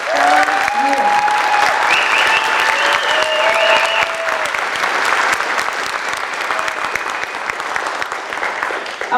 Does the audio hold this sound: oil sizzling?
no